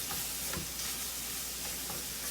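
Paprika fries in a pan with steady, close sizzling and hissing throughout, broken by a few soft scrapes as it is stirred.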